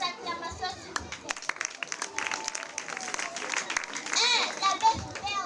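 An audience of children and adults applauds at a school event, a steady bright patter of clapping with children's voices mixed in and chatter throughout.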